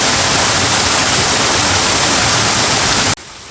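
Hidden waterfall deep in Bedgebury Forest, fed by iron-stained chalybeate spring water, roars as a dense, steady broadband rush that fills the whole clip, then cuts abruptly to a much quieter hiss near the end.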